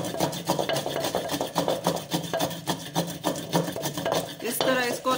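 Green chutney is ground by rubbing, a rhythmic, close, gritty scraping and grinding that repeats rapidly without pause.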